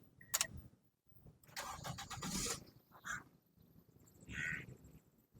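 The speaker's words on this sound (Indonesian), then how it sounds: "mesinnya halus banget, kita dengerin suara mesinnya" Toyota Corolla Altis with a manual gearbox and 1800cc 16-valve engine, running smoothly with a steady low rumble broken by a few brief louder bursts, heard up close with no talk.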